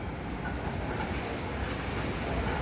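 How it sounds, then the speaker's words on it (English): Trams rumbling along a busy Melbourne street beside a pedestrian crossing, a steady, loud rolling rail noise with faint wheel clatter filling the whole stretch, no voices. "Trams are coming and going, very busy."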